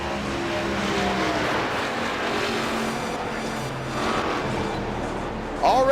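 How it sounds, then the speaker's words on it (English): NASCAR 2000s Cup Series cars racing at Talladega in iRacing, a dense, steady engine roar from several cars with a brief rise near the end and faint talk underneath. "It is cars on track."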